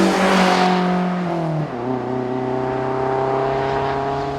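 A 1960 Alfa Romeo Giulietta Spider engine drones loudly and close, its pitch falling sharply partway through, as in a gear change, then settling into a steady hum.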